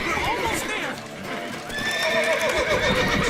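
A horse whinnies loudly amid hoof clatter and busy background noise in The Witcher 3: Wild Hunt, with overlapping voices throughout.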